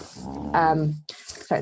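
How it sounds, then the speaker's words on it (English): A collie dog growls and whines in a low, drawn-out rumble, rising into a loud, strained vocal tone near the middle, with a person speaking briefly around it. "that's the dog, if anyone can hear that noise."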